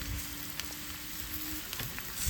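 Mushrooms and onions sizzle in a wok set over a BBQ, making a soft, continuous hiss with a few faint crackles and light clatter, heard up close.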